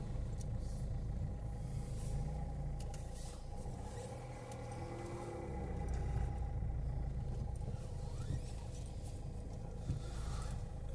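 Steady low road rumble inside a moving car carrying a driver and his brother-in-law, constant engine and tyre drone throughout with no talking.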